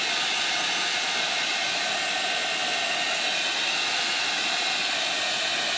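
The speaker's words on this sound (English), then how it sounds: "since I'm using a heating tool, I'm making sure to move it around and not leave it in one spot too long" A handheld heat tool, hotter than a hairdryer, blows over a drying chalk transfer on home decor: a constant, even airy roar with no pauses, steady in loudness throughout.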